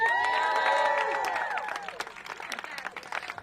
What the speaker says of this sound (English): Let's give a big round of applause to Diallo